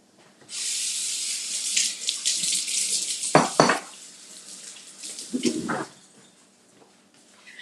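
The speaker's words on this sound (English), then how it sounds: "let me wash my hands" Hands being washed under a running kitchen tap, with a steady loud stream of water splashing into a sink, broken by brief louder splashes as the hands move through it, no talking.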